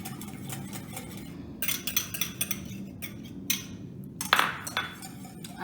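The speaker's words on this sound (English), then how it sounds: "I'm going to whisk that in." Melted, cooled unsalted butter is whisked into egg for buckwheat crêpe batter, with soft, irregular whisk taps and clinks against a bowl, close and fairly quiet, with a sharper metallic clink near the end.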